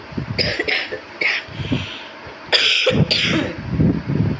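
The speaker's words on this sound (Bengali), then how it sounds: "এই আমার এক কাশি শুরু হয়েছে" A person coughs repeatedly in short bursts, some in quick pairs, close to the microphone, with brief quiet gaps between the fits.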